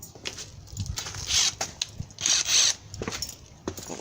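Two short, buzzing bursts from an impact wrench work on the front brake hub of a 1994 Ford Ranger with manual locking hubs. Clanks and handling noises fill the gaps between the bursts.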